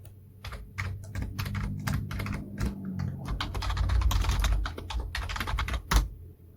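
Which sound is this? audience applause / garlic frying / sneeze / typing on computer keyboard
typing on computer keyboard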